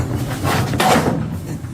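A door swinging shut inside a room during a nighttime scare session, a single muffled thud with a brief rattle, moderately loud and close, with no talking over it.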